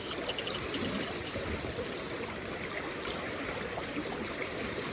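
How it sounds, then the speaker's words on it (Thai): Mountain stream flowing through forest, a steady, dense rush and gurgle of running water, constant and fairly close with no voices. "และทางนี้ก็จะเป็นลำธาร"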